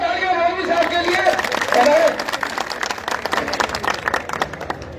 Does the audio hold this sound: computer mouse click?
no